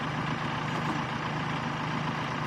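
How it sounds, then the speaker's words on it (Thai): Kubota tractor engines, an L4708 and an L3608, drone steadily and loudly while pulling a stuck Kubota L5018 tractor. The low, continuous rumble has no voices over it. "ใช้รถไถสองคันช่วยกันดึงนะครับ"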